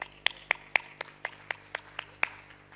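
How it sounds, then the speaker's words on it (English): Sparse, evenly spaced hand claps, roughly ten sharp, close-sounding strikes in under three seconds, greeting a speaker at a plenary session hall; thin and steady rather than a full, roaring ovation. "big round of applause for her."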